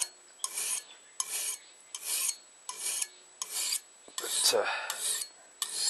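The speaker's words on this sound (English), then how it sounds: "putting an edge on it with a file." A hand file rasps along the edge of a French butcher knife in a steady series of about eight rhythmic strokes, close and scratchy, with a brief word spoken near the end.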